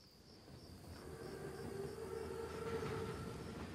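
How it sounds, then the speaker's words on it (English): A German armored train (Panzerzug) in Call of Duty WWII approaches as a low, steadily building rumble with a faint sustained whine riding above it, and no voices. "Train's right on time."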